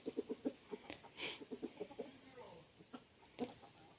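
Quiet, distant geese give short clucking honks in scattered bursts, some quick runs of calls and a few lone notes over faint outdoor background.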